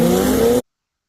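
A Ford Explorer ST launches hard with a loud engine roar and faint tire squeal, heard close up for just over half a second before cutting off abruptly to silence.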